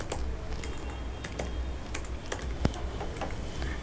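Rapid, irregular clicks of keys on a computer keyboard as code is typed, close and fairly quiet, with no voices.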